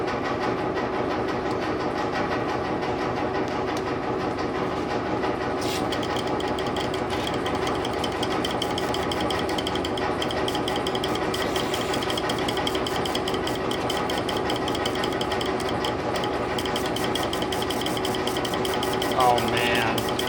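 BMW K75RT motorcycle engine idling with a loud, steady mechanical drone and rapid ticking pulses after its spark plugs were cleaned, heard close up with brief talk.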